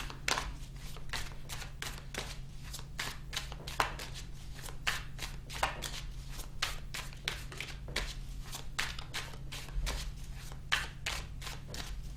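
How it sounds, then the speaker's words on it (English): Rapid riffle-shuffling of playing cards, repeated crisp bursts of flicking cards in a steady rhythm, close to the microphone with no talking. "I was shuffling the cards"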